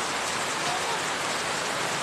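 Heavy rain pouring down, a dense, steady hiss of drops hitting surfaces up close, with no pause for the whole two seconds.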